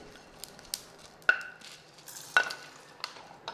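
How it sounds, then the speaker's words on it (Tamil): Lentils, coriander seeds and cumin dry-roast in a pan for bisibelabath, a quiet rustle with a few sharp clinks of a spoon against the metal and soft scraping between them, close and without talk. "இப்போ நான் பருப்பு வகை, தனியா, ஜீரகம் எல்லாம் வதக்கியாச்சுங்க."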